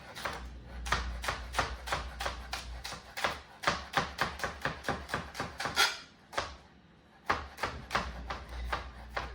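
Knife chopping green onions on a cutting board for vegetarian fried rice, a rapid run of sharp, close rhythmic chops with one short pause midway before the chopping resumes at the same brisk pace.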